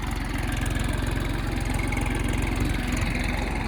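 A driverless tractor runs steadily in a farm field, its engine holding a loud, even idle-like chug with a rapid regular pulse throughout, close to the microphone and with no voices over it.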